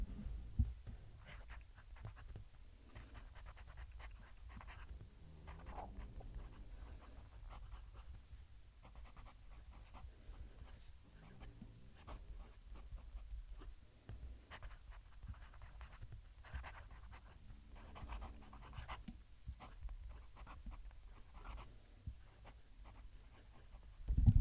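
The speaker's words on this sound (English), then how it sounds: "I'm going to move the mic to the paper so you can hear the pen" A nib of a Chinese fountain pen modelled on the Parker Duofold scratches faintly across paper with the microphone placed right beside it. Irregular short strokes are separated by quiet pauses, and no one talks.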